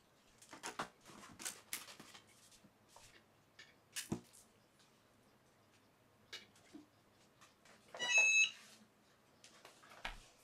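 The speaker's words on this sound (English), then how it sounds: "So that sound means that my EasyPress is ready" A Cricut EasyPress heat press, warming up for a glitter iron-on apron, gives one short, clear electronic ready beep late on. Faint handling clicks and taps come before and after it in a quiet room.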